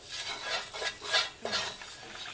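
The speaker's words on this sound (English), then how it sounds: "So all we're doing is just stirring all this up from the curry base I made and the onions that my mom put together." Curry base and onions being stirred in a pan, a spoon scraping and clinking in several uneven strokes with faint sizzling underneath, close up and with no talk.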